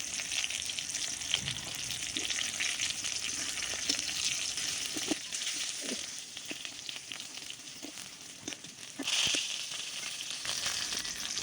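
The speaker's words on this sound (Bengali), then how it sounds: "আরও একটু ভাজা ভাজা করব" Steady, close sizzling of hilsa fish parcels frying in a pan, continuous throughout with faint scraping and bubbling textures.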